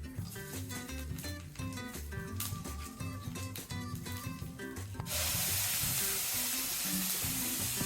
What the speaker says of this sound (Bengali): এখানে ফোড়নে দিব শুকনো লঙ্কা